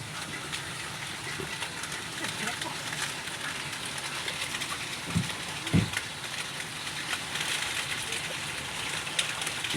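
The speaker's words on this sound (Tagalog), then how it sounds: "Walang tigil ang ulan." Heavy rain falls without letup in a steady, dense hiss, with a couple of low thumps partway through and a person speaking faintly beneath it.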